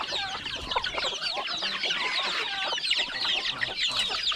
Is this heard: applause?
no